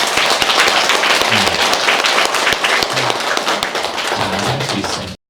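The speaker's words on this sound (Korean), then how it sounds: "박수 한번 주세요." A lecture audience bursts into loud, dense applause that keeps going for several seconds and then cuts off abruptly.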